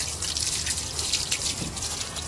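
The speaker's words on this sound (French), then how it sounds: "on va pouvoir rincer toute la partie mécanique et toute la partie carrosserie de la machine" Water spraying steadily over a jet ski's engine and bodywork while it is rinsed, a close, continuous hissing splash with no pauses.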